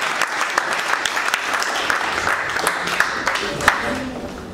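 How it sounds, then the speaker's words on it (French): Applause from an audience at a women entrepreneurs panel, a steady, dense clapping from a sizable crowd in a hall, continuing evenly throughout. "Des applaudissements pour elle."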